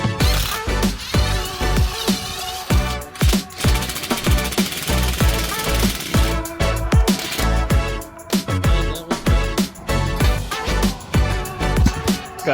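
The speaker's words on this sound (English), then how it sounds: "remove this old railing" Removal of an old deck railing, with repeated loud, sharp banging and cracking impacts in quick irregular bursts throughout, close and forceful.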